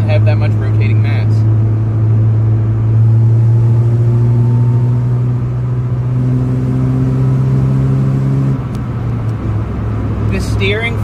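A Mazda RX7 rotary engine with light rotating mass runs steadily while driving on the road, a loud continuous low drone with a shift in pitch around the middle, heard close inside the car.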